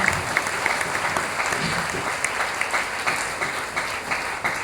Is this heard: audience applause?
yes